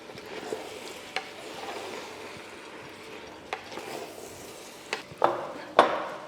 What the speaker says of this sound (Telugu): కాసేపు కలిపి కొంచెం రైస్ని ఫ్రైలా చేసుకోవాలి